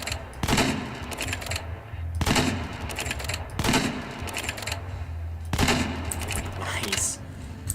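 Gunfire in a modded Minecraft game with reloading mechanics: four short bursts of rapid shots spaced a couple of seconds apart, fairly quiet, over low background sound.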